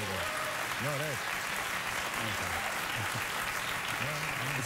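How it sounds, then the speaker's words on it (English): Recorded studio audience applause from a late-night talk show plays back as a steady wash of clapping while people talk over it. "You're playing back the amount of applause they gave you for your show in the beginning."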